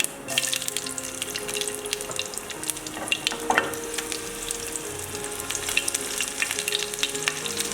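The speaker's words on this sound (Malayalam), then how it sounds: "നമുക്കിനി ഇതിലോട്ട് ചെറിയ ഉള്ളി ആഡ് ചെയ്ത് കൊടുക്കാം." Small shallots sizzling in hot oil with popping mustard seeds, tempering for a Kerala jackfruit seed and raw mango curry; a continuous close, crackly sizzle with scattered pops throughout, no voices.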